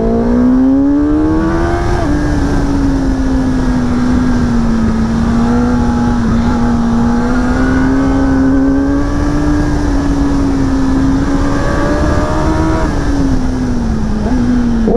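A 2025 Kawasaki ZX-10R, a 203 hp superbike, pulls hard in second gear, its engine note climbing and holding a loud, steady high-revving howl close to the microphone for the whole stretch, with a brief dip near the end and wind rush throughout.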